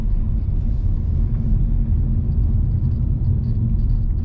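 Low, steady engine and road rumble from inside a Mercedes A250 with 129,000 km on it while driving, a continuous deep drone with no voices.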